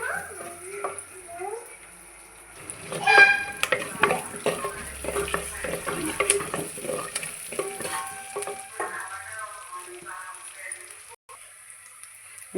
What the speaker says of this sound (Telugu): ఆనియన్స్, పచ్చిమిర్చి, కరివేపాకు, పోపులు, ఎండుమిర్చి వేసుకొని వేయించుకోవాలండి